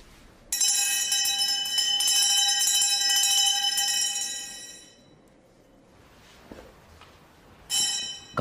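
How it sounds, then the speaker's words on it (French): A bell at a Zen temple is struck to wake young priests, ringing loud and bright before a long decaying hum fades to near silence, then a second strike rings out at the end. "on sonne une cloche, afin de réveiller les jeunes prêtres"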